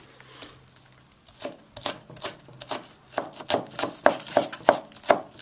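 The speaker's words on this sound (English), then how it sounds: "I'm just cutting this really small pieces also too." A knife chops green onion into small pieces on a cutting board for Tibetan momo dumplings, starting with light taps and building into a quick, steady run of close, crisp cuts.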